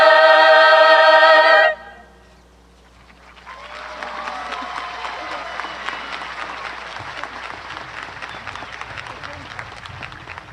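Applause from a high school graduation ceremony audience for the choir after their song, rising after the music ends and holding as steady, moderately loud clapping from a large crowd.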